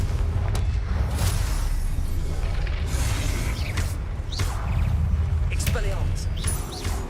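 Booming blasts from a Confringo fire spell in the Hogwarts Legacy video game, several heavy bursts with whooshes over a dense rumbling low end, loud and close, with a voice calling out spell names among them.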